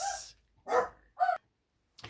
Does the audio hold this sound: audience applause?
no